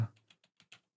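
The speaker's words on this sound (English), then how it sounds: "otherwise it's just you typing slowly" Slow typing on a computer keyboard: about seven separate, soft keystrokes tapped at an uneven pace, close and alone.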